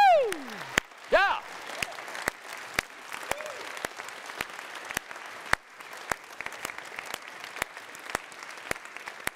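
Symposium audience claps steadily with sharp, sparse individual claps carrying across a large hall, while a voice whoops and speaks loudly at the start.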